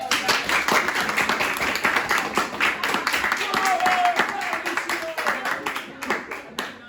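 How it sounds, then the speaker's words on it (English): Scattered classroom clapping from a handful of students during an algebra lesson, mixed with chatter and a voice talking over it, steady for several seconds before thinning out toward the end. "Standing ovation"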